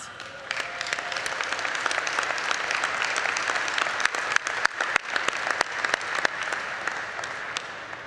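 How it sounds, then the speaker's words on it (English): A convention audience claps steadily in sustained applause, a dense patter of many hands that holds at a moderate level throughout. "we owe you all a giant round of applause"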